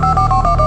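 Telephone keypad tones beep in a quick series of short, evenly spaced dial tones, loud and close with no talk.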